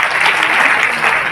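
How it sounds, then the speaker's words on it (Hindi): Loud, dense applause from a crowd greeting a guest at a birthday celebration, steady continuous clapping close by with no break. "आप एक बार और जोरदार ताली बजाइए"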